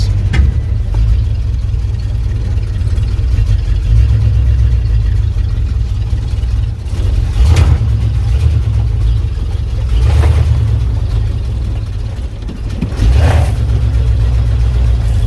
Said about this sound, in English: Might need to bump up the idle a little bit, because it kind of don't like it all too well when it's in gear.